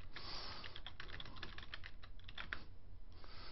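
Steady run of quick keystrokes on a computer keyboard as a search term is typed, close and moderately loud, with irregular clicks and a few sharper taps, no voices.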